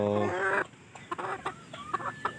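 A Black Bruce gamefowl hen clucks in a short run of close, moderately loud calls, opening with a sustained tonal note and then several brief clucks.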